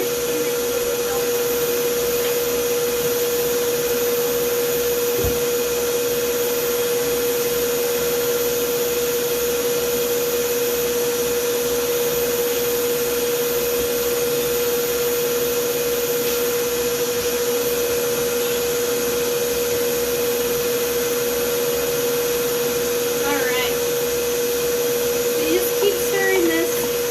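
An electric mixer runs steadily while eclair dough is made, a continuous whirring drone with a constant pitch throughout. Faint clicks and small kitchen noises sit under it.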